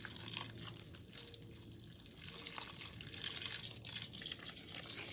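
Water pouring from a 275-gallon tote onto greenhouse plants, a faint, continuous splashing trickle at low level.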